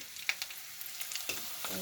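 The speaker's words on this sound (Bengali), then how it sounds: "আলু ভাজা হয়ে গিয়েছে, এখন নিয়ে নেব।" Potatoes fry in a pan with a quiet, close sizzle, punctuated by a few light clicks and scrapes from stirring, and no speech.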